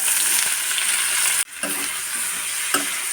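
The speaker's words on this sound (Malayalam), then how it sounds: "ഇനി ഇതിലേക്ക് അരിഞ്ഞു വെച്ച സവാള" Chopped onion frying in oil with popped mustard seeds and fennel seeds, a close bright sizzle with spoon stirring and one short break partway through, and no voices.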